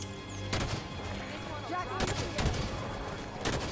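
Sniper gunfire in the video game Halo 5 crackles in several loud bursts over a dense, continuous game soundscape, with a player's voice audible at times.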